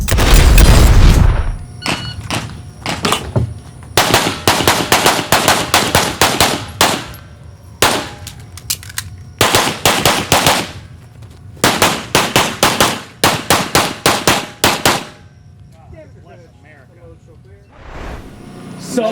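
Pistol shots ring out at a shooting competition stage, loud sharp cracks fired in quick bursts of several rounds with short pauses between strings, close to the microphone.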